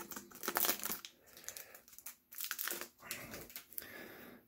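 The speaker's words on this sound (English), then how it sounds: "I'll go ahead and open up one set of cards here" Plastic wrapping on a pack of board game cards crinkles and tears in several close, fairly quiet bursts, with brief pauses between the crumpling handfuls.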